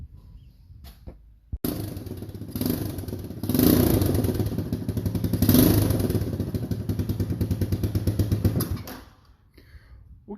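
A 1983 Honda ATC Big Red three-wheeler engine running after a carburetor change, a steady close single-cylinder putter with rapid pulses, revving up twice in swells before idling and cutting off near the end.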